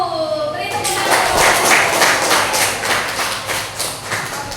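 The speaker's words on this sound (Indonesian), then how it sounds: "Beri tepuk tangan." A school class claps hands in a classroom, a burst of many hands applauding together that starts sharply and carries steadily for several seconds before tapering off.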